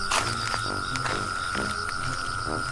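A frog calls outdoors at night, repeating pulsed croaks about every half second against a steady tonal background, fairly loud and near, with no talking.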